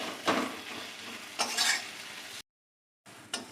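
A spice paste with tomato is sautéed in a pan for a country chicken curry. Bursts of close sizzling and stirring scrapes are broken by a brief silent gap, then resume.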